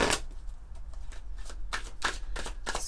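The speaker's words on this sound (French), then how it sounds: "On va prendre quelques cartes de l'oracle" Oracle cards riffled and shuffled by hand, a series of quick crisp flutters close to the microphone, fairly quiet, with no talk.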